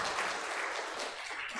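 Church congregation clapping, a dense, steady burst of applause from a crowd filling the whole short moment without pause.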